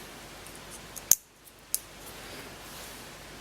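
Scissors snipping the snagless boot of a network cable, one sharp close cut followed by a second softer snip over quiet background.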